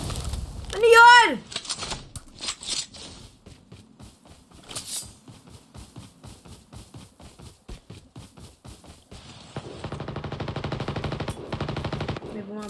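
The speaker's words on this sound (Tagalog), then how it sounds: "May bumabaril dito." Rapid bursts of automatic gunfire in a video game, with clattering volleys and a sustained machine-gun stretch toward the end, mixed with brief exclamations and other sound effects.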